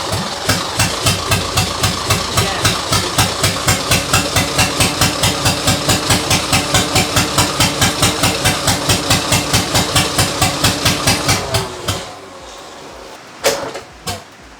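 A 1986 Ford Mustang GT 5.0 V8 idles with a loud, steady, lumpy pulsing, then shuts off around twelve seconds in, followed by a couple of brief clunks.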